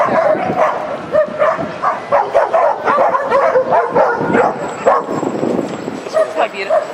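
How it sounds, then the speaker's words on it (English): A dog on a street in Buenos Aires gives repeated short yips and barks in quick bursts, close by, mixed with people talking over it. "Look how beautiful this dog is."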